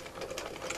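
Sewing machine running a line of stitching down the middle of elastic on palazzo trousers while the fabric is held taut, a faint, steady whirring hum with no pauses over a short stretch.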